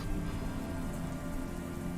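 Steady rain ambience hisses and patters continuously, dense and even, with no voices and no breaks.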